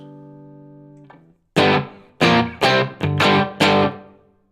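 A guitar played through an amp simulator with reverb: a sustained ringing chord decays, then five sharp distorted strummed chords hit in a loose rhythm, each cutting off with a short reverb tail.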